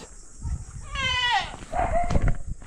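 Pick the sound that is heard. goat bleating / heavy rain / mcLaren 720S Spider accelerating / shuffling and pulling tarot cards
goat bleating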